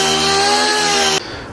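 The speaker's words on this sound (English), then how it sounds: "I'm using 40 grit just to tear down the body filler as much as possible" A power sander with 40 grit paper grinds down body filler on a car body dent, a loud, close, buzzing whine that cuts off abruptly after about a second.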